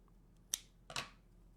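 Scissors snip ribbon tails on a wreath bow, two quick close cuts, the second a double snip, in an otherwise quiet room.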